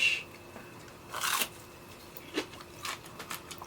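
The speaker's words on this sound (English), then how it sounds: "Hold on so you can hear the crunch." Quiet, close crunches as someone bites and chews Cajun-style vegan fried fish, a few crisp bursts spread over a few seconds with no talking.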